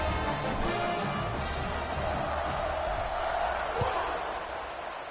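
Stadium crowd noise from an American football video game, a steady broad roar of cheering that runs throughout, with a commentator talking over it.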